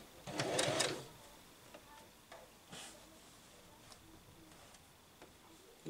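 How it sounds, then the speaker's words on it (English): Sewing machine stitching a gathered fabric sleeve for a gown, a brief close burst of motor whir near the start, then quiet handling and small clicks. "Then I start stitching all over."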